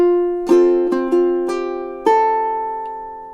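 Ukulele melody on top of acoustic guitar down strums, with several bright plucked attacks that ring out and sustain across a few seconds, played alone with nobody talking.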